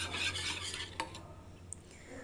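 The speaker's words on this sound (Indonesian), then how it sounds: "Aduk rata kembali." A custard milk mixture is stirred in a pot, with soft scraping strokes at first, then a single clink of the utensil against the pan, followed by quieter stirring.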